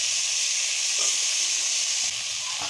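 Onions and eggplant fry for a fish chorchori, a continuous close sizzle with faint stirring sounds and no talk.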